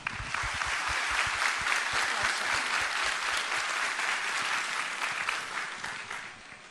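An audience claps warmly for a singer on the X Factor stage, steady applause filling the hall from start to finish with a slight fade at the end.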